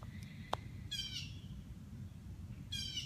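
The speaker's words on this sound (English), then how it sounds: "A lot of bird sounds and animal sounds this morning." Birds calling outdoors on a morning, with a sharp single chirp early on and two bursts of rapid, high trilling chatter, moderately close over a steady low background rumble.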